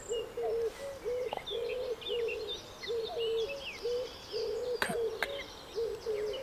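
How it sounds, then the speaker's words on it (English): A common cuckoo calls near reed warbler nests, repeating its steady two-note call at a moderate distance while higher, fainter songbird chirps continue in the background. "there's definitely a cuckoo in the area"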